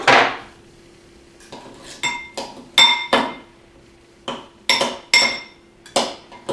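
Avocado being chopped and mixed in a bowl for a vegan taco filling, heard as a series of sharp, close clinks and taps of utensil against bowl coming in irregular bursts with short pauses between.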